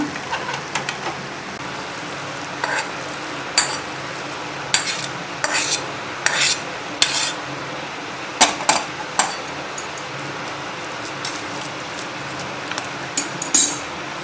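A spoon scrapes thick coconut burfi mixture from a pan onto a ghee-greased plate, with intermittent close scraping strokes and metallic clinks over a faint background hiss.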